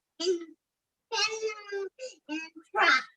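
A person imitates a cat's meow in several short, close vocal bursts with gaps between them. The imitation happens during a casual group conversation over a video call.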